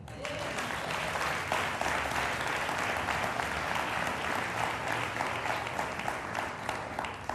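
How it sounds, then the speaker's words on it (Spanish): A congregation at a Spanish-language sermon on Jerusalem gives the King sustained applause, dense steady clapping filling the room for several seconds without a break. "Denle un aplauso al Rey."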